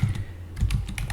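Close keystrokes on a computer keyboard come in short uneven bursts, clicks clustering in quick runs with brief pauses, with no talking over them.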